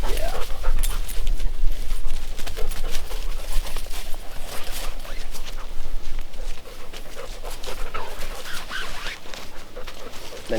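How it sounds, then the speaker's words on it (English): A puppy pants and whimpers close by at a campsite, with soft breathy panting running steadily throughout and occasional small whines over light outdoor noise, with no voices. "Nice puppy, yeah."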